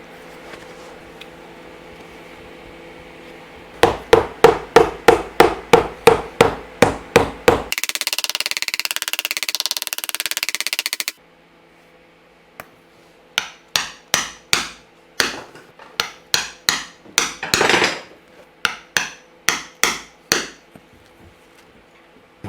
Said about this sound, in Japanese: 本底鉢巻き、そして中底まで貫通して穴を開けたので、そこに木釘を打ち込みます。